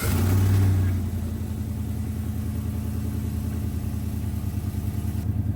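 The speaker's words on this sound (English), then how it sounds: "Starts the truck right up, and it's still going off this battery pack." A truck engine starts off a portable jump starter, turning over with a loud low roar before settling into a steady, close idle rumble that continues alone.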